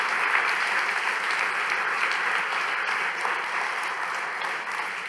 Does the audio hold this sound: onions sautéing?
no